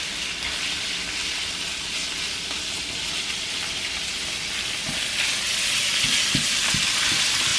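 Pork belly frying in vegetable oil in a pan, a dense, loud, continuous sizzle like steady rain that swells slightly, with a few soft knocks near the end and no voice.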